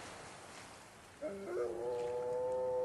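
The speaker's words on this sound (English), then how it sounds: "That's a dog." A dog howls on an island, a faint sustained tonal wail that starts partway in and holds steady to the end over a quiet outdoor background.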